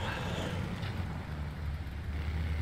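Car engine in the video game GTA III, a steady mid-level motor drone with road noise that rises and falls slightly, heard at moderate distance without talk.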